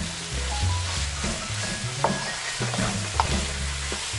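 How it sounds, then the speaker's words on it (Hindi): Bell peppers fry in a pan while being stirred, a steady close sizzle with occasional scraping clinks of the utensil against the pan. "इसको मज़ीद 3 to 4 मिनट तक फ्राई कर लेंगे"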